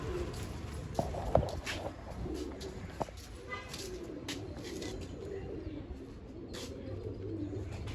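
Pigeons coo softly in a coop, repeated low murmuring calls with a few faint chirps and footstep-like taps, while people talk nearby.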